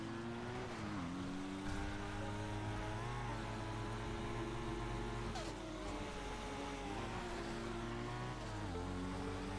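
Car engines roaring through a race in the GTA video game, loud and continuous, with several pitches rising and dipping as cars shift gears and rev, plus a couple of sharp impacts.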